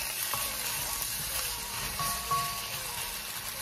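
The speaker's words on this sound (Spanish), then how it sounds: "Ahora le voy a poner salsa de tomate. Lo sofreímos bien" Tomato sauce and longaniza sausage frying in a pan give a steady, close, dense sizzle with faint crackles throughout and no talking.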